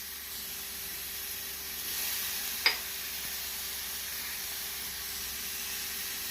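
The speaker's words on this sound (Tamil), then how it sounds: "நாம் தக்காளியும் பச்சை மிளகாயும் போட்டு வதக்கிக் கொள்ளலாம்." Onion, tomato and green chilli sautéing in a pan for an egg masala omelette make a soft, even sizzling hiss, broken once by a single sharp tap of a utensil.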